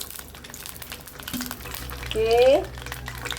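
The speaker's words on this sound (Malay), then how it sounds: "kita nak goreng dulu bahan-bahan kita. Cili kering, bawang merah, bawang putih." Dried chilies, shallots and garlic frying in a pan for gado-gado, with a faint steady sizzle that builds briefly as the ingredients stir, under a short spoken word.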